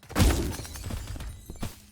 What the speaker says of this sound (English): You can hear the whoosh of the stars hitting them, and then you can hear the sparkles of it shattering.